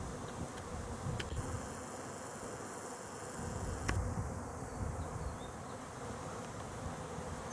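Honeybees buzz steadily around a beekeeper's hives outdoors, a dense continuous drone at moderate level with a few louder passes close by and no talking.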